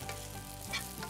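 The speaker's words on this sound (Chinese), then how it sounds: "把切条一根根放入锅中， 不要马上翻动，待底面成型后再翻转两面煎一煎" Eggplant strips sizzle and fry in hot oil in a non-stick pan, a steady close crackle with brief louder spits, no voices.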